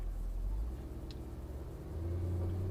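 A Mercedes-Benz SLS AMG at a motorsports park gives off a deep, steady engine rumble at idle or low revs. The low drone holds constant and fairly close, settling to a slightly lower tone near the end, with no talking over it.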